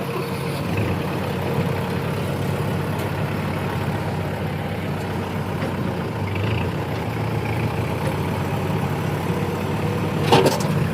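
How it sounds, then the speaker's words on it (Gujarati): A Kubota tractor engine runs steadily on a farm, a continuous low diesel rumble close by with little change in pitch, and a brief sharper knock near the end. "આ છે આપણું ટ્રેક્ટર કુબોટા."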